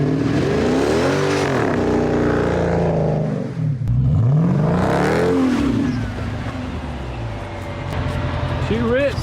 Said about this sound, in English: She was spinning the rear tires, and then I guess the all-wheel drive kicked in about halfway through.